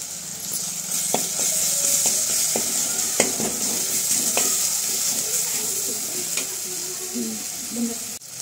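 Hing and turmeric sizzle loudly in hot oil for Maharashtrian chur kanda, a steady frying hiss broken by clinks and scrapes of a spoon stirring the pan.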